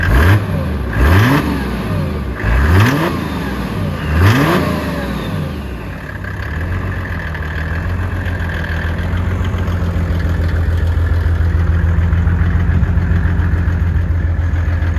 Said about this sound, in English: So the dieseling's louder than the entire car.